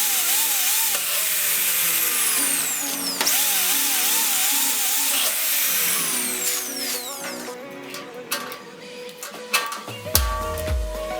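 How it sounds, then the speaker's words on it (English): A high-pitched power drill whines steadily, drilling holes in a metal rope pump cover, rising and falling in pitch as it bites, with metallic scraping and clanks toward the end. "Drill holes in the cover for the poke rivets and clamp the cover in position."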